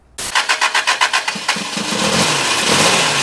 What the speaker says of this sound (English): We then got the engine running